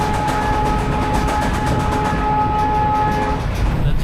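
An ALCo WDM 3A diesel locomotive hauls a passenger train on the Barmer–Munabao line in Rajasthan, its engine chugging steadily and loudly nearby while a long, sustained horn blast sounds over the rumble.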